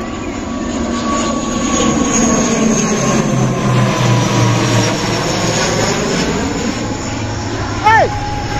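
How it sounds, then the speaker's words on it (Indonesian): A propeller airplane flying from Makassar to Baubau drones overhead above a coastal seaweed farm, a steady loud engine hum with slowly shifting tones, while people talk over it. "pesawat itu tadi dari Makassar mau ke bau-bau"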